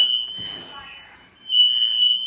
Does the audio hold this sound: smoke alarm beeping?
yes